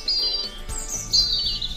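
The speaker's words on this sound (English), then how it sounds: "It's Daddy Bird. He's making a nest." A bird gives short, high chirps and thin whistled tweets while building a nest from branches and twigs, heard close and clear against a soft background.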